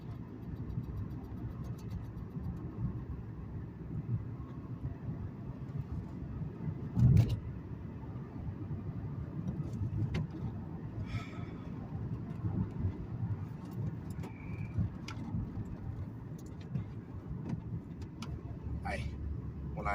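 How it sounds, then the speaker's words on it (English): Manual-transmission car driving at low to moderate speed while the driver shifts up through the gears. A steady, muffled engine and road rumble runs throughout, with someone talking over it and brief clicks from the gear changes. "Shifting into 3rd. 30, shifting into 4th."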